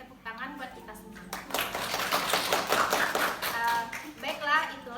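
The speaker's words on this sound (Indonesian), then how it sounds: "tepuk tangan buat kita semua" A small group claps together during a classroom design-thinking presentation, a short burst of steady hand claps that starts a little over a second in and runs to the end, with voices talking underneath.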